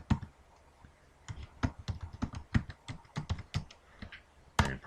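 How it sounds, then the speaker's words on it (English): A web address is typed on a computer keyboard into a browser address bar, producing quiet, close, irregular key taps in quick bursts with brief pauses between them. "we just go up here to the address bar and type in Google's website."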